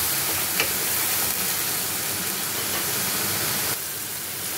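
Spice paste made with chilli powder and cumin powder sizzles as it is sautéed in hot oil, a steady, soft, broad hiss that keeps going with a small crackle early on and eases slightly toward the end.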